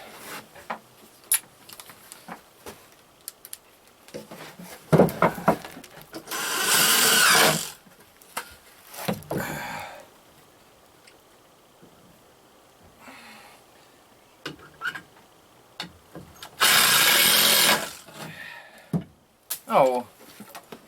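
Power drill driving screws into reclaimed popple and pine lumber for greenhouse shelving, two sustained whirring bursts among scattered knocks and handling clatter, with someone talking in between.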